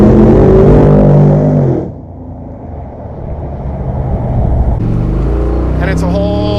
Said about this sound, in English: The exhaust is a little bit rowdier than what I would normally do